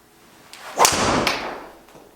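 Golf ball struck hard with a Callaway Mavrik driver, stiff flex shaft: a single sharp, loud impact with a whooshing tail that fades over a second or two, with no talking.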